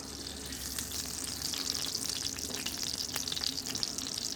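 Onion fries in hot oil on a barbecue, giving a continuous bright sizzle and crackle at close range with scattered small pops.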